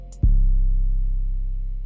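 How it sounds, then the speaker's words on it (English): A single deep 808 bass hit booms in after a short click, its low tone sustaining and slowly fading. "the most basic 808 you can ever get"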